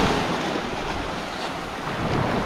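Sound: strong wind

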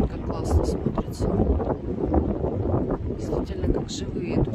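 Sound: strong wind on seafront promenade

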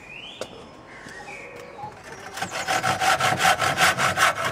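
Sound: rounding off the ends of wooden uprights for a pole lathe

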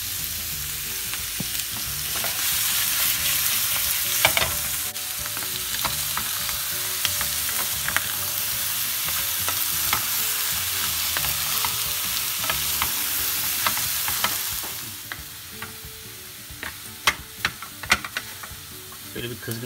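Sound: diced liver frying and being stirred in a hot pan

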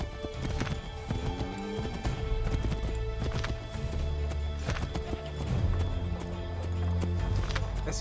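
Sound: horse galloping in Assassin's Creed 3 video game

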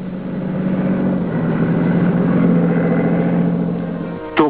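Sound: diesel internal combustion engine running

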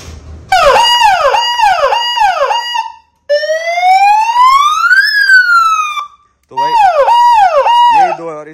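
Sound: 30 watt vehicle siren hooter

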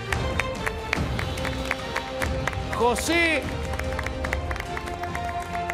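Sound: studio audience applauding on a game show

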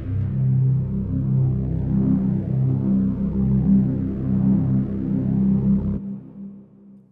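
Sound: Surge XT synth low grumbly pad with filter LFO

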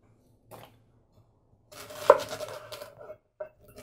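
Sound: knife cutting stalks off fennel

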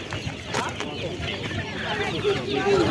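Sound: hens clucking

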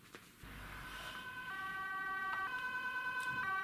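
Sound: ambulance siren

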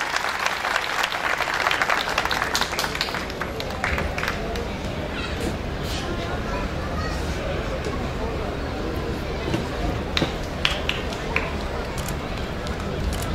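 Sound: audience applause welcoming the mayor

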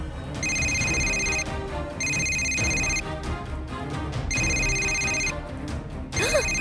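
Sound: telephone ringing

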